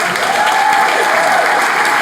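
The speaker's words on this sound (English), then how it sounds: "everybody, give them a round of applause" An audience applauds high school students at a civic forum on media and democracy; steady, dense clapping fills the room at full strength throughout without any talking.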